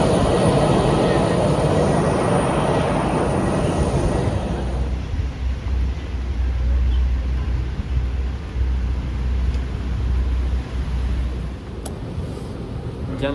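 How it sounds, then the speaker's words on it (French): An airliner on a flight to Athens roars loudly at first, then settles into a steady low cabin drone of engine noise that continues throughout. "Tu veux regarder l'avion,"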